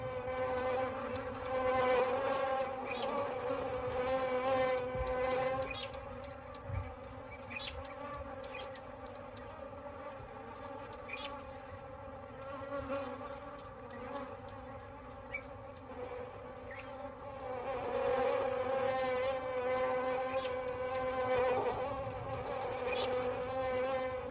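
A swarm of bees attacking lions drones and hums continuously nearby, the buzzing swelling and fading as individual insects pass close.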